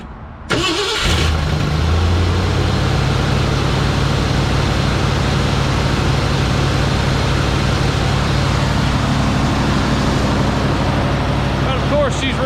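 A 1968 Ford F100 pickup engine cranks and catches after a water pump install, then settles into a loud, steady rumbling idle that runs on without a break.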